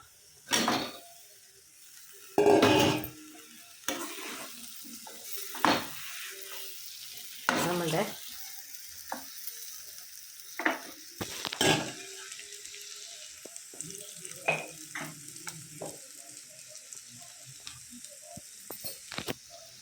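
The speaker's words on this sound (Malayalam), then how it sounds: "ഇളക്കി കൊടുക്കാം കുറച്ച് ഉപ്പ് കൂടി ഇട്ട് കൊടുക്കാം" Dates being stirred and fried with salt in a pan, with a quiet background sizzle broken by repeated, sharp scraping strokes of a spoon against the pan, close and without talk.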